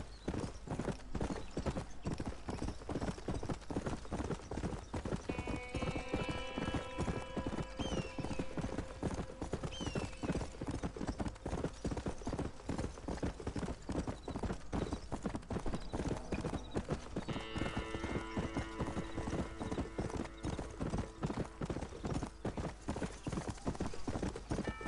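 A thoroughbred horse in the video game Red Dead Redemption clip-clops along in a steady, continuous hoofbeat rhythm, with occasional whinnies and a soft musical tone underneath.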